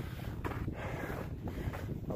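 Steady wind rushes and buffets the microphone on a mountain hike in the Roan Highlands, a constant rough roar with gusty swells and no talking.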